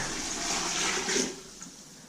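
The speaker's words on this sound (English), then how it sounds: "I'm going to add a bit more water" Water is poured from a container into a pot holding chicken for stock, making a steady rushing splash that tapers off, with no talking.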